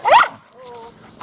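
Dogs greet people arriving at a house. One sharp bark comes right up close, then a thin, wavering whimper follows before things fall quiet.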